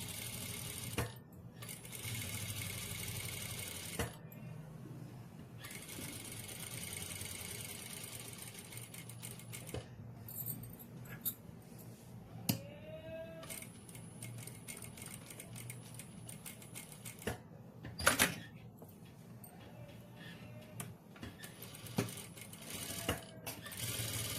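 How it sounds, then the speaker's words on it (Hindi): Sewing machine stitching along a beaded pearl neckline on a garment, a steady mechanical whir running in long bursts with brief stops and small clicks between runs. "इसमें इसके ऊपर एक सिलाई पहले हम लगा लेते हैं"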